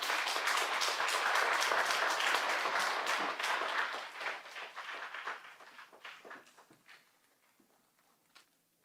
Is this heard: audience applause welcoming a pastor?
yes